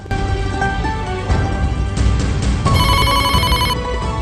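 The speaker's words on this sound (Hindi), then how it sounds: "योनो फोन क्यों नहीं उठ रहा है?" A telephone rings on and on with no one answering, its bell tone steady and loud over a dense background of music, in a Hindi-dubbed romantic drama.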